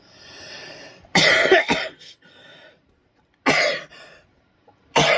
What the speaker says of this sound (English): have a persistent cough.